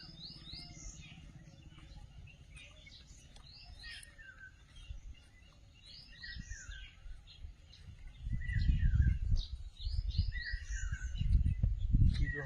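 Birds chirp and sing in quick, high trills throughout, while a low rumbling noise swells up in the second half.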